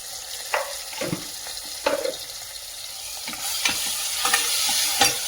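Tomato and turmeric powder frying in a pan with browned onion and curry leaves, for an avarekalu saaru: a steady soft sizzle with several scraping stirs, the frying growing a little louder toward the end.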